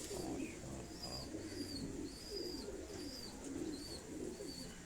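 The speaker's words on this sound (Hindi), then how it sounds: "टैडी कबूतर ये आपको दिखाए जा रहे हैं" Soft, repeated teddy pigeon coos in low rolling phrases, with faint high chirps from other birds above a steady background hum.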